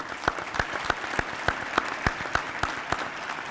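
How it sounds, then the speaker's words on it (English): An audience at an awards celebration applauds the event sponsors, with a steady run of evenly spaced, close, sharp hand claps dominating and no speech. "Please give these folks a great round of applause."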